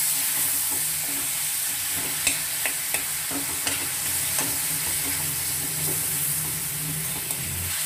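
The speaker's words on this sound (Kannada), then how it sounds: "ಇದನ್ನು ಚೆನ್ನಾಗಿ ಫ್ರೈ ಮಾಡ್ಕೋಬೇಕು." Brinjal pieces fry in oil in a pan with a steady close hiss, broken by a few light stirring clicks, and no voices.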